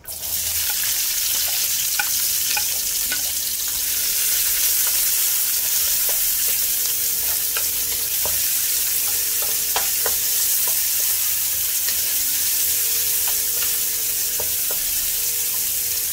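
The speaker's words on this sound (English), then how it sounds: "Now I'm going to add in the shallots." Shallots fry in hot oil for a Chettinad mutton bone curry, giving a loud, constant close sizzle with occasional spatters and utensil clicks and no voices.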